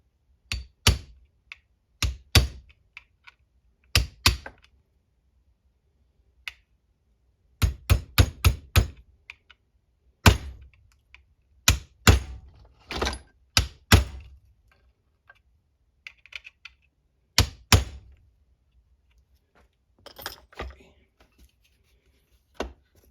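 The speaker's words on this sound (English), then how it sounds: "Let's get the hammer and see if we can punch that into place real quick" A hammer punches a small part into place while assembling an MP-17, giving sharp metallic taps in irregular bursts of single and rapid multiple strikes, close and loud, separated by silent pauses.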